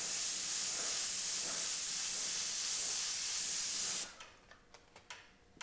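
An airbrush sprays paint around a freehand shield in a steady, loud hiss lasting about four seconds, then cuts off, leaving a few faint clicks and light handling noises.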